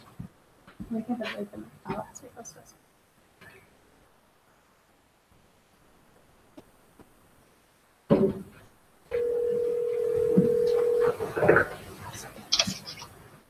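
A phone call being placed on a speakerphone in a meeting room: soft rustling and scattered voices give way to a sharp click, then a steady loud dial or ringback tone that holds for a couple of seconds before handling noises and more voices.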